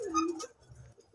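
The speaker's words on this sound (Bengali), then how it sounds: "আর এরা অরিজিনাল পাখি, আর এরা ক্লাবের কবুতর, এরা রেস করা হয়েছে।" A racing club pigeon gives one brief close coo in a loft, and a short quiet pause follows.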